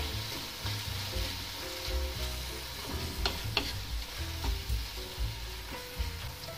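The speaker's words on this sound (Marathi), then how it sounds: "तेलामध्ये छान असं सगळं परतून घेतलेलं आहे।" Pavta (field bean) bhaji ingredients sauté in hot oil in a pan, a soft continuous sizzle with occasional stirring scrapes, fairly faint beneath steady background music and with no talking.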